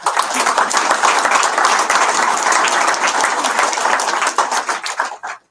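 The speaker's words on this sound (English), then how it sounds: "let's give them a round of applause." A crowd gives loud, dense, sustained applause at a company presentation, many hands clapping together close by before the noise thins and fades out at the end.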